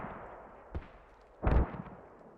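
Mortar rounds land in a video game battle in Gorodok between Chinese mechanized infantry and US forces, two dull booming impacts, a small one followed by a louder, longer blast, over a low rumbling background.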